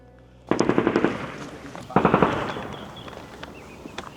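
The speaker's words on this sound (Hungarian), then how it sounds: "Az előbb lehetett lövéseket hallani" Gunshots in Syria ring out in two bursts of rapid fire, each a quick cluster of sharp cracks with a trailing echo, moderately distant, followed by scattered faint pops.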